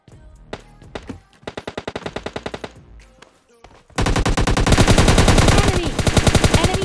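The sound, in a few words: gunfire in the video game PUBG Lite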